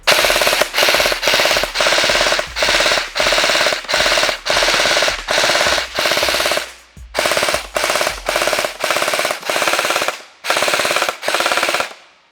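A gel blaster rifle fires on full auto in rapid bursts, each a dense rattling string of shots lasting about a second, separated by short pauses, loud and close with no talking.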